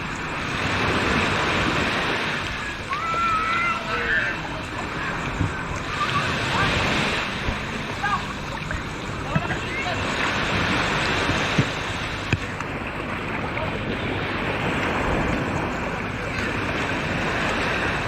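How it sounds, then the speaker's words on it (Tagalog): Choppy sea waves slap against a small boat in a steady, loud wash of surf and wind noise across the whole stretch, with brief voices mixed into the roar. "Maalon dito"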